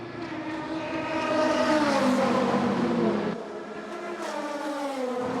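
An IMSA race car at the 2022 Twelve Hours of Sebring revs loudly in its pit box and then pulls away, engine tone climbing and dropping as it gets into first gear, with a steady mechanical roar throughout.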